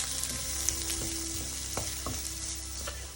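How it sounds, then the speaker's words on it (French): Chopped garlic frying over medium heat in a pan, a steady close sizzle broken by a few scrapes and knocks as a utensil stirs it. "On mélange et on laisse revenir à feu moyen cette fois-ci, que l'ail ne brûle pas."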